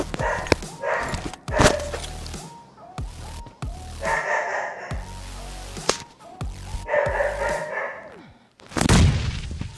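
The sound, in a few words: dog barking in the room during a PUBG Mobile game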